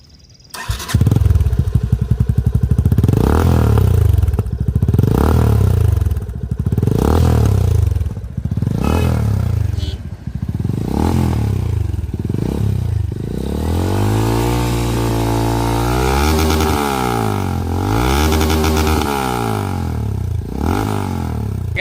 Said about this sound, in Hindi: गाइस इसका आपने एग्जॉस्ट नोट सुना, बहुत अच्छा बेसी एंड स्मूथ था।